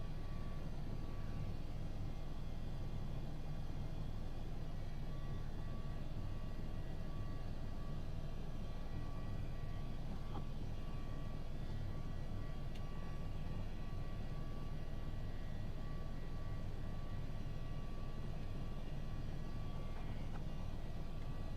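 A steady, droning Boeing 737 engine hum fills the cockpit of a full-size home flight simulator, a continuous low rumble with faint hiss and no voices, unchanging throughout.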